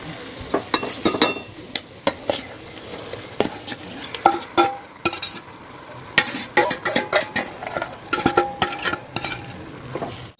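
Chicken pieces tipped into a pan of fried onions and tomatoes for homemade chicken biryani, then stirred: a steady sizzle under repeated sharp scraping and clinking of a spoon against the pan, close and fairly loud, with no talking.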